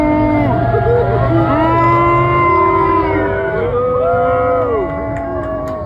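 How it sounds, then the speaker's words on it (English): A crowd in The Hague boos Donald Trump as his car pulls up, a loud sustained chorus of overlapping low jeering voices that holds steady and then eases slightly. "where he was currently getting booed as his car pulled up"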